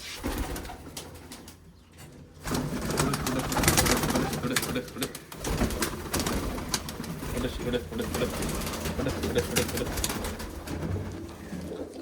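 Pigeons in a loft of roughly a hundred birds, soft cooing and rustling throughout with someone speaking over them nearby.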